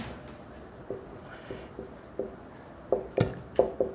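A pen writes on paper during a class, giving a series of short scratchy strokes that grow more distinct and closer together toward the end, with faint talk around them.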